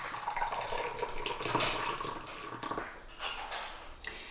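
Warm water poured from a tap or jug onto saffron strands in a home kitchen, a continuous splashing trickle that thins and sputters toward the end, close and fairly loud with no talk.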